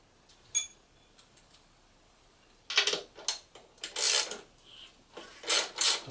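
Bolts being removed from the arm of a B9 robot, heard as a short tick early on, then a cluster of close, dry rasping and scraping bursts of metal against metal in the second half, with no talking.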